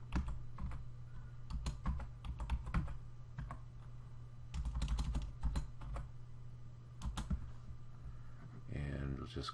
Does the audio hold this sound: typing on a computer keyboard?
yes